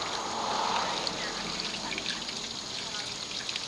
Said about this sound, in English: now I'm going to go ahead and just pour some water and wash this away